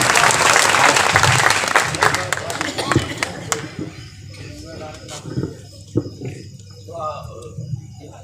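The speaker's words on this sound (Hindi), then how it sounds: "एक बार दोनों हाथ ऊपर उठाकर ताली बजाकर आमंत्रित करें।" An audience at a large Hindi poetry gathering in Narwar claps with raised hands, loud dense applause at first that thins into scattered claps while voices talk over it.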